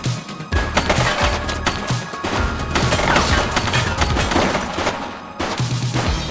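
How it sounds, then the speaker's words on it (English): Heavy gunfire in The Precinct police video game, rapid dense volleys of loud shots and crashes that go on almost without break, close and forceful. "He's shooting!"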